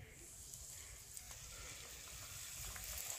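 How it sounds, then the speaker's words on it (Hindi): Chicken fingers fry in hot oil over a medium flame, a steady soft sizzle with faint crackles that stays even throughout. "मीडियम फ्लेम पर ही हम इसको फ्राई करेंगे ताकि जो चिकन है वो अंदर तक से कुक हो"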